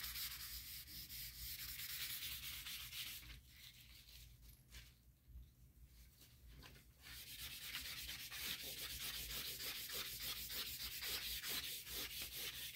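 Paper towel rubbed over a vine charcoal drawing on paper gives a soft, continuous scrubbing swish up close, with rapid back-and-forth strokes that pause briefly midway and then resume steadily.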